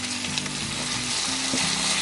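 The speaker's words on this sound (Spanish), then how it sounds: "tengo 1 kilo aproximadamente de carne picada que ya es salpimentado y lo vamos a agregar" About a kilo of salted and peppered minced meat sizzles steadily in a pan over moderate heat, a loud, dense, continuous crackle up close with no talking.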